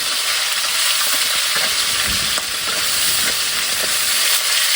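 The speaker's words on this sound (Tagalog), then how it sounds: "yung paglagay mo ng mga bawang or sibuyas, yung kumukulo talaga yung mantika." Garlic and onions sizzle in boiling cooking oil, a loud, continuous bright frying hiss up close, with occasional faint stirring sounds and no voices.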